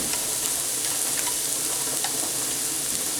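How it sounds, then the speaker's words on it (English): Onions sizzle and fry in a hot pan with a steady, dense crackle and occasional small pops, close and continuous with no talk. "And let's put our onions in."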